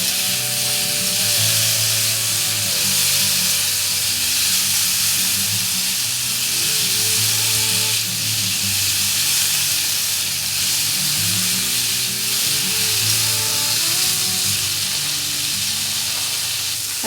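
Bitter gourd and potato curry sizzles steadily in a pan after water is added, a continuous close frying hiss with faint bubbling underneath and no talking.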